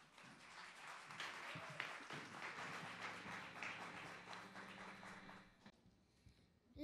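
Soft, fairly distant applause from an audience at a music school concert welcomes a beginners' group to the stage. The clapping sounds steady and muffled, then thins out and fades near the end.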